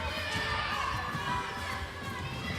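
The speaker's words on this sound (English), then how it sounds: "there's a pretty big crowd forming behind these guys" A big crowd of kids gathered behind players at a Smash & Dash Duel e-sports tournament, a loud steady murmur of many children's voices with cheering and shouting throughout, dense and close.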